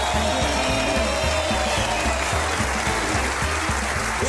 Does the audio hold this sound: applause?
yes